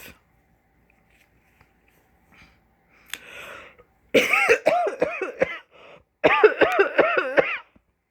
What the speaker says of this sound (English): And I'm coughing a lot.